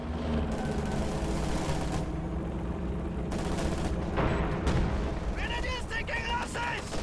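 Gunfire and booms from a World War II real-time strategy battle with Soviet units and an IS-2 tank: dense, continuous rumbling shots and explosions, loud and sustained, with a voice talking over the combat.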